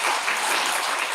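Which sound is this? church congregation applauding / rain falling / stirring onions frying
church congregation applauding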